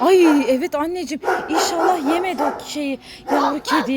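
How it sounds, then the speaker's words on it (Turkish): Dogs bark and yip repeatedly outdoors beneath someone speaking close by, the barks rising and falling in quick bursts. "dışarıda köpek avlama sesi geliyor"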